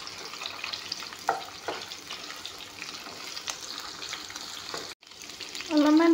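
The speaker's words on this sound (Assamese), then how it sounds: "পিঁয়াজখিনি অলপমান ভাজি ল'ম।" Chopped onions frying in hot oil in a pan, a continuous close sizzle with occasional stirring clatters, a short drop near the end, then a louder tonal scrape.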